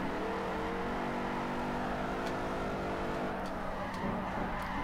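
A Chrysler 300C SRT engine in Forza Motorsport 4 revs steadily at high pitch with a constant droning whine, loud and continuous, and no one speaks.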